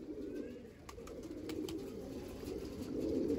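Pigeons cooing in soft, low, repeated coos. They sound close but quiet over a steady background hum, with no talk.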